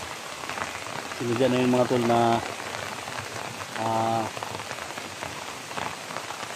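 Steady rain patters on surfaces outdoors, a continuous hiss running through the whole stretch, while someone speaks briefly in two short bursts over it.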